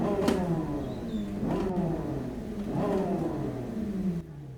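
Nissan GT-R engine in Gran Turismo 7 revving hard three times in quick succession, each rev rising sharply and falling back, loud and alone without talk.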